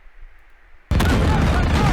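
A tank gun round strikes an armored vehicle in a sudden loud blast that bursts in after near silence and rolls on as a sustained, broad roar.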